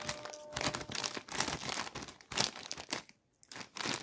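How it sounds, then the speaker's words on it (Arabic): A plastic snack bag of Ash Ash tomato-flavoured snacks is crinkled and torn open up close, with bursts of loud rustling and crackling broken by a brief pause. "نفتح تالت كيس ونقول بسم الله الرحمن الرحيم"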